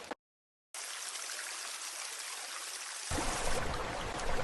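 River water flows in a steady, broad rushing wash after a brief silent gap at the start, growing fuller and louder for the last second or so.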